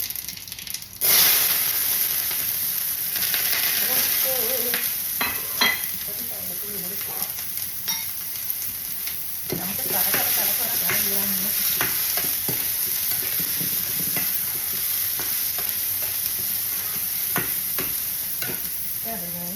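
Mustard seeds sizzle and crackle in a hot pan, a steady frying hiss with scattered pops and stirring scrapes, close and continuous.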